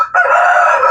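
Kabir rooster on a chicken farm crows loudly and close by, a single sustained cock-a-doodle-doo beginning after a brief pause and ringing out for most of the second.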